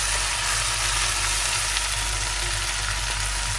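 Ginger-chilli paste sizzling in a hot pan, a steady, continuous crackling hiss throughout with no talking.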